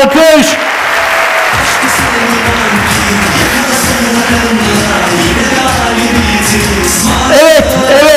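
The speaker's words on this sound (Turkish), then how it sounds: "Alkış!" Students at a university welcome event applaud loudly and continuously, with cheering, whoops and shouts rising over the dense clapping from a large crowd.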